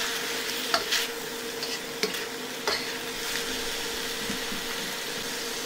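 Beef and broccoli stir-fry in a hot pan for a keto Chinese dish, giving a steady loud sizzle broken by several sharp scrapes and clinks from a utensil stirring against the pan, close up and without talk.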